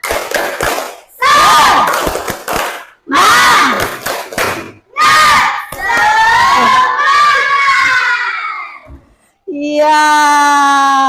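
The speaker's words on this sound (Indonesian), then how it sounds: "Jadi kita tepuk semangat dulu supaya tambah semangat ya." Children in an Islamic religion class shout a rhythmic spirit clap chant together, a loud crowd of young voices in bursts with claps and pauses, ending in a sustained sung cheer.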